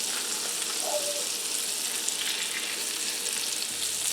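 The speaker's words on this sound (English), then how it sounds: "I'm going to get those chops in there and get them browned up" Pork chops frying in butter and olive oil in a skillet, a loud, steady hiss and crackle of sizzling fat that runs unbroken from start to finish, close up.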